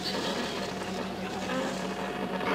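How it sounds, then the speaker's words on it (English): A motorboat engine, a WWII PT boat, drones steadily with a broad, noisy roar, growing slightly louder toward the end. "The boat is coming this way."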